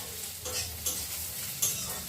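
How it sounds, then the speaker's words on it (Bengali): Potatoes fry with black cumin in a pan, giving off a steady, close sizzle. Two sharp stirring knocks stand out partway through, and there is no talking. "ওনার প্রিয় জিনিস কালো জিরে দিয়ে আলু ভাজা সেটাই বানিয়ে দিচ্ছি"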